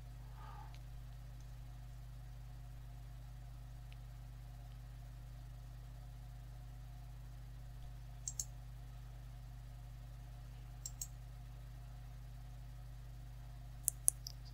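A computer mouse clicks a few times, sparse and faint, on a Toshiba Satellite Pro laptop during a Peppermint 8 Linux install, over a steady low electrical hum.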